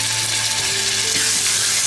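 Ginger and garlic fry in a pan with a continuous, close sizzle, and faint clinks and scrapes come through under the hiss.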